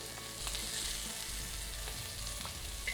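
Onions fry and caramelize in a pan with a constant crackling sizzle, close and quiet, dotted with small pops and the odd soft scrape.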